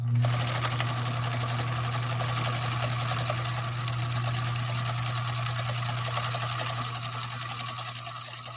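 A sewing machine runs a decorative cam B stitch 4 in one long, steady, close-up whir with a fast regular rattle, easing slightly toward the end, with no talking.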